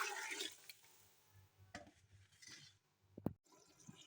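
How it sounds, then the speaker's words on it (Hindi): One litre of water poured into a pot of black chana curry: a splashing gush at the start, then quieter trickles and a few light clinks of cookware, fairly close with no talk. "मैं 1 लीटर शामिल कर रही हूँ पानी।"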